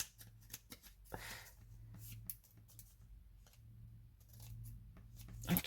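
Scissors cut card stock for a handmade greeting card, with a series of close, crisp snips and sliding paper rustles in a quiet room.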